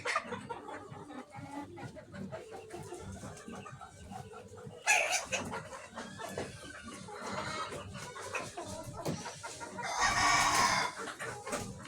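Farm chickens cluck continuously nearby while a rooster crows loudly twice, with a busy backdrop of other fowl calls and faint talk.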